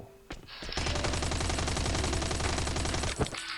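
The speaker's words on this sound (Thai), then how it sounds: "อนนี้มันก็มีคนอยู่บนแคมป์นี้เนี่ย มันก็ยิงเราอยู่" Enemy gunfire in an online shooter game, a loud, close burst of rapid automatic shots lasting about two and a half seconds, with a few single shots before and after it.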